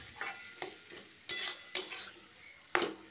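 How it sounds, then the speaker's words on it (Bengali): Village-style tomato chutney with chopped dates is stirred in a pan. Several sharp metal scrapes and clinks of a spoon against the pan stand out over a faint, soft sizzle. "এরপর আমি কেটে রাখা খেজুরটা দিয়ে দিলাম, দিয়ে আবারও ভালো করে মিশিয়ে নিচ্ছি।"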